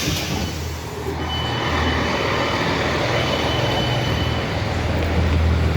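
A train rumbles steadily at Amersham station platform, a broad continuous roar with faint squeals and hiss, no voices.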